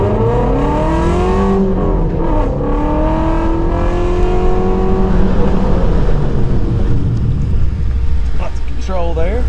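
A performance car does a brake stop test run with a new brake booster and blue calipers. The engine revs climb loudly through the gears, then the sound drops away as the car slows hard, all under constant close talk.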